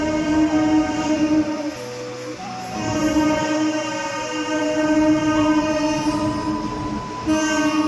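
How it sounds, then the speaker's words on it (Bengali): An express train rumbles into Bhubaneswar station at night with a long, loud horn blast and sustained wheel and rail noise, steady and close throughout. "দেখুন বন্ধুরা, এক্সপ্রেস আসছে।"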